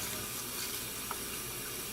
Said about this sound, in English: By submerging it in the water this way, you get the water in between, so it rinses out any dirt or sand.